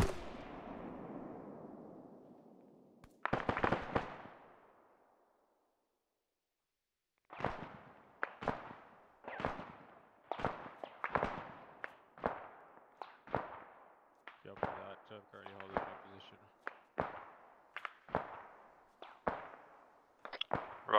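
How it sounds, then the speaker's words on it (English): Gunfire in Arma 3 in a snowy setting, a steady run of distinct sharp shots at regular intervals after an opening burst and a short silence, fairly distant and without talk. "I hear shots"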